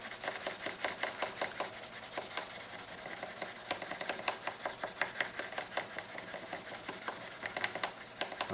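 A pipe stem button is wet-sanded with 400 grit sandpaper in quick, close, rhythmic rasping strokes that repeat steadily throughout, faint and without talk.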